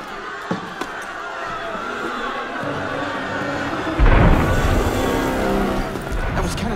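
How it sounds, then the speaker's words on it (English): Cannon fire in the video game Assassin's Creed Unity: a heavy booming blast cuts in partway through, loud and rumbling, after a stretch of quieter ambient background with a couple of faint knocks. "That was cannon fire."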